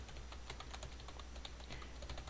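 Computer keyboard keys pressed in a quick, irregular stream of soft clicks, including space bar and return presses, faint over a low steady hum.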